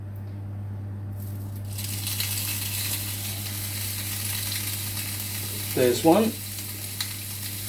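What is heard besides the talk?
burgers frying in a pan with vegetable oil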